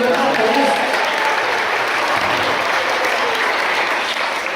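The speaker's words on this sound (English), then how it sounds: "Let's give Scrappy Doo a big round of applause." Loud, steady applause from a crowd at a sheep show, dense clapping filling the whole stretch without a break.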